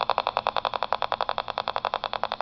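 A small pulse motor powered by a homemade crystal battery cell runs with a fast, even train of buzzing clicks, about ten per second, steady and close, with no talk.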